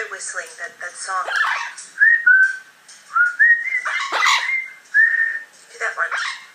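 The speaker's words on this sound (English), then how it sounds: "That other whistling, that song." A young blue-fronted amazon parrot whistles a short tune in bright, rising and falling phrases, close and loud, in bursts between a person's talk.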